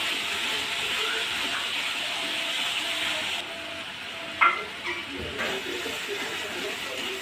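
Coriander powder and spices frying in hot oil in a kadhai for Banarasi-style urad dal curry, a steady close sizzle with a few sharp scrapes of stirring near the end.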